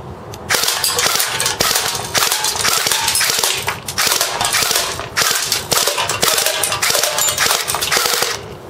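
CYMA Desert Eagle airsoft electric pistol firing BBs at a metal can, a rapid series of sharp snapping shots with metallic pings, many close loud hits in quick irregular succession.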